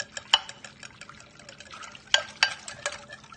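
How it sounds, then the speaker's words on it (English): A whisk works through a green magnesium gummy mixture in a bowl, giving quick wet clinks and sloshes in uneven bursts, with a couple of sharper taps against the side. "Whisk, whisk, whisk, like the wind."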